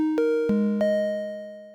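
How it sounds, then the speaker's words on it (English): A smooth, mellow Reason synthesizer patch of a single triangle wave plays a few sustained notes in sequence, each held and gently fading, with a soft hollow tone and no other sounds. "I've got a polytone loaded up with a single triangle wave patch"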